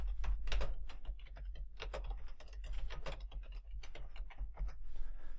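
Quick bursts of keystrokes on a computer keyboard as a short name is typed in, close-up clicky taps in uneven clusters over a low background hum, with no voices.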